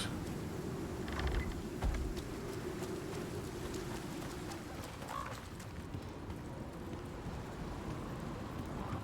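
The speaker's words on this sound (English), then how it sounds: "Well, there's rain now." Rain patters and drips in the survival video game Icarus, a soft continuous wash with scattered irregular drip taps and a few faint thumps, fairly quiet and without talk.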